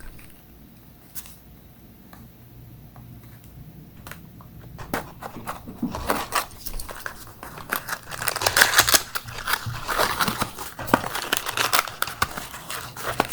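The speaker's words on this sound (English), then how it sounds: "So let's go ahead and open this knife and cut this open real quick." A knife slices open the packaging of a Minecraft Aquatica mystery pack of mini figures, close and crisp, with a string of sharp cutting and tearing noises and plastic crinkling growing busier toward the end.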